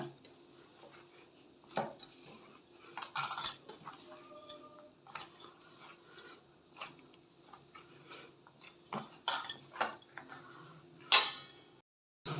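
Rava (semolina) dough for restaurant-style rava bhatura is kneaded by hand in a bowl, producing faint, irregular slaps, taps and small clinks against the bowl, with quiet gaps between them.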